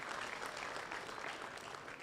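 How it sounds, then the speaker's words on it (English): Crowd applause at a fullblood Boer goat doe show for the exhibitors, dense continuous clapping from an audience in an arena, steady and moderately distant throughout. "ladies and gentlemen, give these exhibitors a round of applause"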